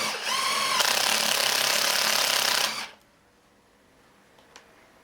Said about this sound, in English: Put these self-tap in, it's got a drill bit on the end